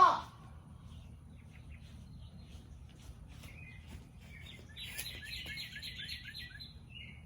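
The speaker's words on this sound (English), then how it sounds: "I think I moved like 2 birds, and that's not even the one that is chirping really loudly" Wild birds chirp outdoors in a series of high, rapid tweets, distant at first and then a louder, busier burst of song near the end over a steady low rumble.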